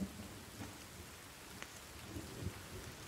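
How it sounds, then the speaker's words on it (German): Steady rain falls in The Forest video game, a soft broadband hiss carried throughout with faint low rumbles and a few brief spatters, continuous and fairly quiet. "Weil es regnet."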